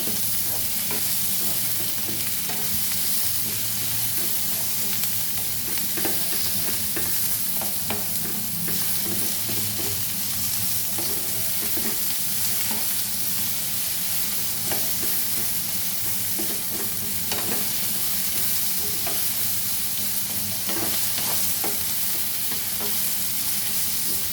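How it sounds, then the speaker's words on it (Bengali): Onions fry in a pan with a continuous close sizzle and crackle, the spatter broken by frequent scraping stirs, steady and even throughout with no talking. "পেঁয়াজটা ভাজা হয়ে এসছে। পেঁয়াজটা একটু বেশি করে ভাজবেন"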